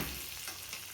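Green chillies crackle and sizzle loudly in oil previously used to fry fish, a dense continuous frying hiss over one second.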